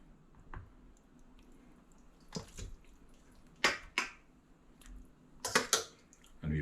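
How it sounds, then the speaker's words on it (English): Greens are pulled off brined raw turkey legs, giving a few scattered wet squishes, slaps and drips, close and fairly quiet, with pauses of near silence between them. "just remove all the greens and the stuff that's on there"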